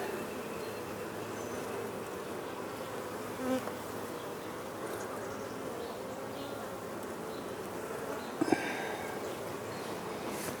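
Honey bees buzz steadily around a frame pulled from a nuc hive, a soft continuous drone with a close bee passing by now and then and a couple of brief handling knocks.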